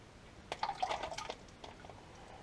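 Motor oil trickles from a drained gearbox into a jerrycan during drag-race preparation, a quiet irregular dripping and splashing that swells briefly in the middle and then thins to faint drips.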